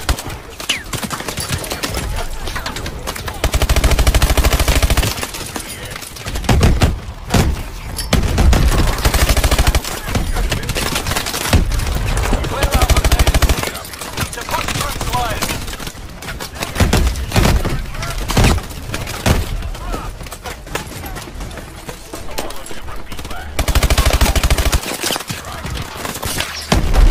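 Heavy automatic gunfire in Call of Duty: Advanced Warfare during a combat firefight, loud sustained bursts with brief lulls and impacts, close up and relentless, with occasional voices over the shooting.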